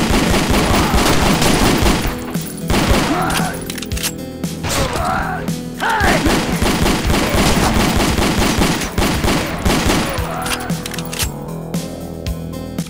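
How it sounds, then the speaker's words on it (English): Gunfire in the video game Ashes 2063 comes in loud, rapid bursts of shots separated by short pauses, over layered game sounds. "Surprised I haven't taken any damage from gunshots in this area yet."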